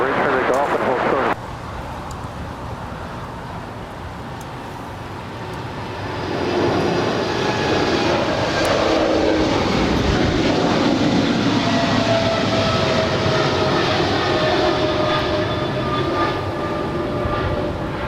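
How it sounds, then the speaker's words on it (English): A DHL Atlas Air Boeing 777 rolling for takeoff on runway 25 left at LAX, its jet engines building into a loud, sustained broadband roar that swells and holds, with radio chatter running over it. "I do have that DHL Atlas Air 777 now rolling down 25 left"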